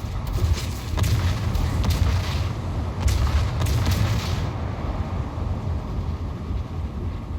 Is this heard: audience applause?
no